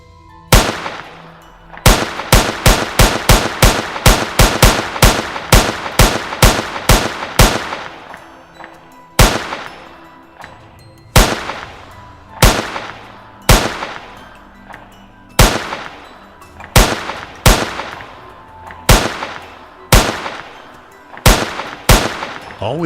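Sharp, loud gunshots from hunters shooting wild boar among palmetto brush, first in a rapid string of closely spaced cracks, then slower single shots at irregular intervals, each ringing briefly; no speech.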